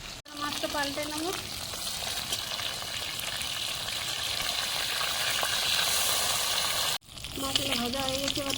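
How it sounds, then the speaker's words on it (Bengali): Fish frying in hot oil in a pan for a Bengali fish curry with poppy-seed paste, a steady, loud sizzle throughout. A brief break comes near seven seconds, and a voice speaks at the start and end. "এবার তেল গরম হয়ে গেছে, এবার মাছগুলো একটা ছেড়ে দেবো ভাজার জন্য"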